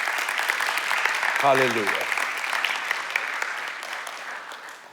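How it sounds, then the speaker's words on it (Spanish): Congregation in church applauding Lord Jesus, sustained crowd clapping throughout while a single voice calls out briefly near the middle, the applause tapering slightly toward the end. "Denle un aplauso al Señor Jesús"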